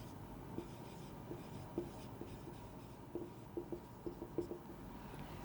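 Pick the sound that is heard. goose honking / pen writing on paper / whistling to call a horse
pen writing on paper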